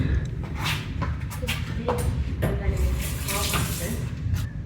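Hands washed under a running kitchen tap after cracking an egg while cooking shrimp with broccoli and rice, a steady rush of water splashing into the sink with light rubbing and shuffling throughout.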